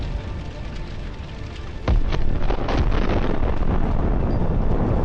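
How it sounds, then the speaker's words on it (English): Massive explosion of an APC's ammunition after an FPV drone strike sets the vehicle on fire, heard as a sudden loud boom followed by a sustained roaring rumble with wind-like noise. "A massive explosion turns the APC into dust."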